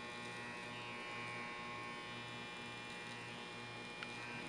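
Electric hair clipper buzzing steadily up close while cutting a faded wave brush cut, a constant low mechanical hum and buzz with no break, a small click near the end.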